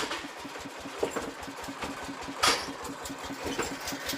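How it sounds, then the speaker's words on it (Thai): A machine runs steadily with a rapid rhythmic chugging, like a small engine or sewing machine, with a couple of sharper knocks; no talking. "เป็นเสียงเครื่องจักรกำลังทำงาน"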